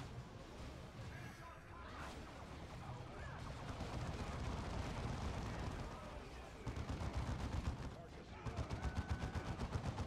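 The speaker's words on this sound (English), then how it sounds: "Wow, your suppressive gunfire is insane." Rapid gunfire and bursts of shots from a Warhammer video game battle against Eldar forces, dense and continuous across the clip with louder clustered volleys near the end, while players talk excitedly over it.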